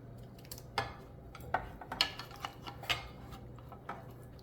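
A metal spoon clinks and scrapes against a cooking pot while scooping out chicken, several sharp taps spread irregularly over quiet background.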